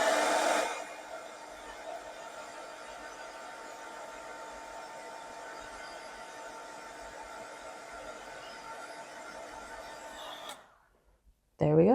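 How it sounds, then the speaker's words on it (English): A heat tool drying watercolor paint blows with a steady, even whooshing hum for about ten seconds, close and moderately loud, then cuts off into near silence. "I'm going to use my dryer. So this is a heat tool."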